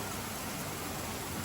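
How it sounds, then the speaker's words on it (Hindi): Heavy monsoon-season rain falls steadily outside a home, a dense, even roar of rain with no breaks and no other sounds over it. "अभी बारिश की सीज़न है तो रोज़ बारिश तो आएगी ही आएगी"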